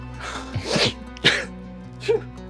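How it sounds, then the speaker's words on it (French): A nearby sneeze bursts out in a quiet room during an archery session, with smaller throat-clearing or cough-like catches around it. Another short sneeze follows toward the end. "Il rééternue."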